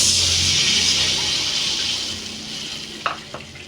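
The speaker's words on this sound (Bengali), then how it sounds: "দিয়ে দিচ্ছি পানিটা" Water poured into a pan of frying potatoes in fish oil with salt and turmeric sets off a loud, broad hiss that gradually fades, followed by a couple of sharp clinks near the end.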